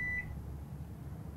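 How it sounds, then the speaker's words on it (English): A microwave oven gives a single short electronic beep at the start, followed by a low steady hum. "let's microwave this now, if I can."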